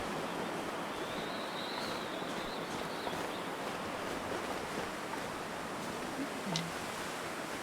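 Steady, broad rushing wind in the video game The Long Dark fills the scene without pause, a constant airy roar with faint rustling and no voices.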